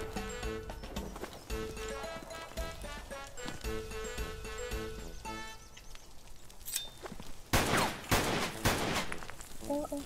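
Gunfire in the survival shooter ZERO Sievert breaks out as bursts of shots, loudest near the end, over constant game music and noise with no talk.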